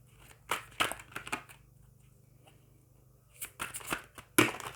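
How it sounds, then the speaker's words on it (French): Tarot cards shuffled close up, short crackling riffles in clusters with a quiet pause between, over a faint low hum, no voices. "C'est pas facile de les battre et du coup, les cartes ont du mal à sortir."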